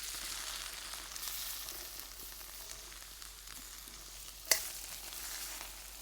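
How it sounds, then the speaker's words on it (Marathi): Raw papaya kunda stir-frying in ghee with cashews and almonds, a faint steady sizzle with soft stirring scrapes and one sharp clink of utensil against pan. "हे चांगलं परतून घ्यायचंय।"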